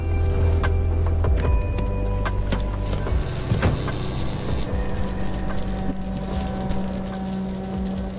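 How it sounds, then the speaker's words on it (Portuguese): A car in the video game Pacific Drive slows to a halt, its steady low engine rumble and whirring mechanical hum continuing loud throughout, with scattered clicks and faint tonal game sounds layered over it. "Tô parando o carro bem próximo de onde eu preciso ir"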